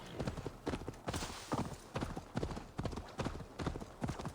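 Steady rhythmic clip-clop of horse hooves trotting at an even pace in the video game Assassin's Creed Valhalla, close and fairly quiet, with no talking.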